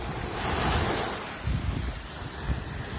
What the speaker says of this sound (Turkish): bak, dalganın gelişine bak bak.